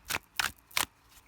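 Tarot cards being shuffled by hand, three quick, soft riffling bursts close up in a quiet room with no talking.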